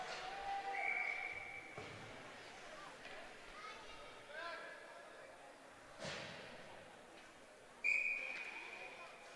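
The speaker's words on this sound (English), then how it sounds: "Whistle before the face-off." Referee's whistle at a college ice hockey game between Boise State and Oregon, sounding two short, shrill blasts, one near the start and one near the end, over a steady arena murmur.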